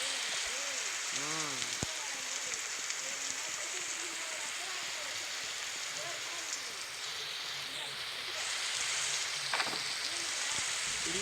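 Rain patters and hisses continuously outdoors, with scattered drops and faint background sounds, while someone talks intermittently over it.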